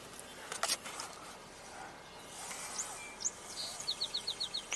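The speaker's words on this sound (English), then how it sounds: "Just heard a song sparrow." A song sparrow singing outdoors on a hot summer day, faint distant bird notes ending in a quick series of repeated chirps, with scattered clicks and rustling.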